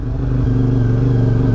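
Car engine running close by on a mountain road, a steady low rumble with a faint hum holding throughout, no talk over it.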